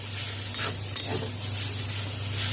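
Spiced jackfruit with chilli flakes and oregano sizzles in a pan while being stirred, a continuous close frying hiss with soft scraping movements.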